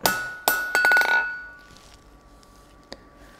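A blacksmith hammers a steel bar straight while forging a punch: two loud ringing blows, then a quick run of close, rapid strikes. The ringing fades, followed by one lighter tap.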